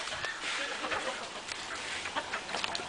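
Rooster clucking and squawking while being chased and grabbed, with agitated bursts of fowl calls over scuffling and background noise, close and fairly busy.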